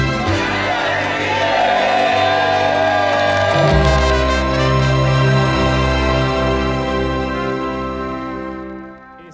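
A large audience cheers, whoops and shouts steadily for about nine seconds, a loud, continuous crowd roar over a sustained tonal backdrop that fades at the end.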